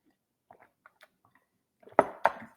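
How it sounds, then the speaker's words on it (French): Turkish chai tea is sipped in two quick, close slurps near the end, after a few faint soft clicks and mouth sounds in an otherwise quiet room. "je vais prendre une gorgée"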